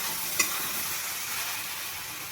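Vegetables fry with mustard and green chilli paste for a ridge gourd and shrimp curry, giving off a steady, even sizzle with one quick stir-scrape early on.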